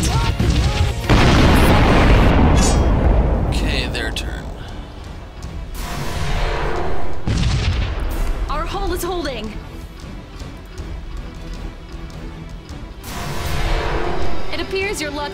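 Sunrider starship weapons fire in the space combat game and strike their target with heavy booming blasts and rumbling explosions that come in waves. Electronic warbling effects and spoken lines overlap the blasts.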